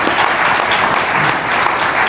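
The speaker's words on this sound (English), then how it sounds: "let's give them a round of applause" Steady, dense applause from a panel event audience at a MobileMonday Toronto analyst meeting, loud and continuous with no talking over it.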